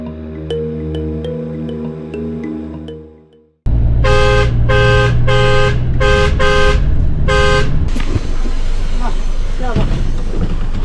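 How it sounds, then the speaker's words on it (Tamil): Car horns honk on a road in China in a run of about five loud, evenly spaced blasts over steady traffic rumble, with talk beforehand and street noise afterward. "ஹார்ன் அடித்து பிச்சு எடுத்துட்டாங்க அந்த வண்டிக்கு"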